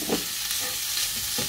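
Garlic and minced pork fry in a pan with a steady, broadband sizzle, while a spatula stirs and scrapes in a few short bursts near the start and end, close and alone without talk.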